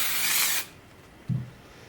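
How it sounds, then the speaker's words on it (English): A short, loud hiss of spray adhesive onto quilt batting lasts about half a second, followed by quiet and a soft dull thump. "give the batting a spray."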